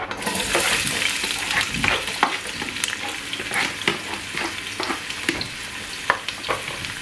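Onion pieces dropped into hot oil in a large pan for bulk family meal prep, giving a loud, steady sizzle with scattered crackles and stirring scrapes throughout, no talking.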